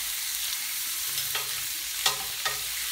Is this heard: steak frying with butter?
yes